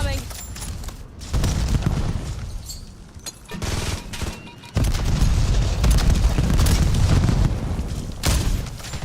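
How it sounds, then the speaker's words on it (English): A grenade explosion in a video game lands among loud gunfire and booming blasts, with repeated heavy bursts through the clip while a voice talks over the action. "Hostile grenade incoming."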